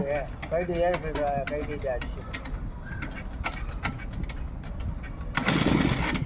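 A 1983 Rajdoot motorcycle being kick-started: repeated clicking kick attempts under lively talk, then a rough burst of engine noise near the end.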